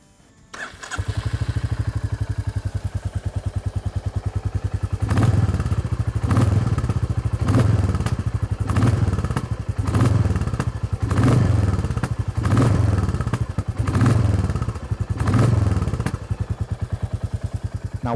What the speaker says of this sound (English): it starts sounding like any other single cylinder engine of this capacity from the modern era